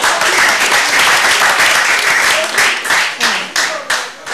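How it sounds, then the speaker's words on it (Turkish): Loud, dense applause from a studio audience on a Turkish television show, a steady wash of clapping that thins into separate bursts toward the end. "hepiniz alkışlarınızla Samet geliyor."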